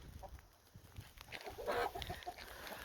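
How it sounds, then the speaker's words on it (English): Chickens give soft, scattered clucks in a backyard coop at night while being put away to roost, heard at moderate distance against quiet outdoor background hiss. "We came up to put the chickens away."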